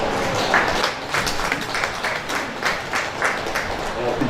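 Audience applause for guest speaker Dr. Soji at an International Day of Persons with Disabilities event: a steady, dense wash of many hands clapping, moderately loud and sustained throughout.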